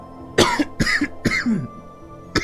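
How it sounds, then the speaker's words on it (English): Several harsh coughs in a quick cluster, close and loud, followed by a pause and one more cough, during Monster Sanctuary gameplay. "Bad time for coughing, sorry."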